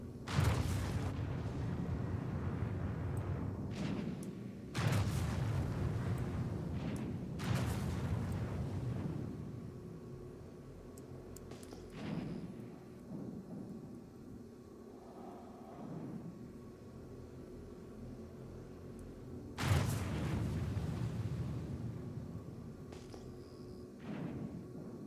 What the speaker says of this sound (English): I'm just gonna go ahead and queue up four missiles out the gate